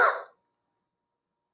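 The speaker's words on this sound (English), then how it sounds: "I'm going to cough" A single short, sharp cough at the start, close to the mic, followed by silence.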